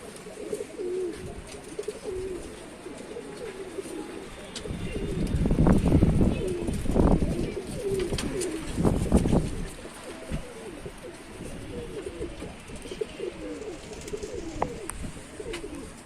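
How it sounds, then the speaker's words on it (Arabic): Pigeons cooing in a flock kept for sale, soft repeated throaty coos that swell to a busier chorus midway, close by, over low background noise with someone speaking at times. "بس الحمام واقف يستحمى يا رجاله."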